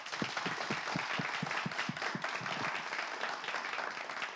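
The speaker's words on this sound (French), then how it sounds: "On peut encore l'applaudir, Gédéon." Studio audience applause on a French television quiz show, a dense steady wash of clapping with a few distinct hand claps standing out early, moderate and continuous across the span.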